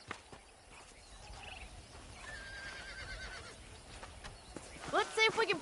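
A horse in the Western video game Red Dead Redemption whinnies near the end, a short rising neigh preceded by faint hoof clip-clops and soft game ambience.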